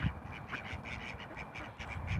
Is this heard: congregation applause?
no